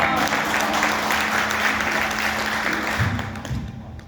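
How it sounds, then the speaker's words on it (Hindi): Audience applause following a poem recitation at a Hindi poetry gathering, dense continuous clapping from a crowd that gradually thins toward the end, with a low hum beneath. "आपकी तालियां बता रही हैं कि आप कविता अभी भी सुनना चाहते हैं"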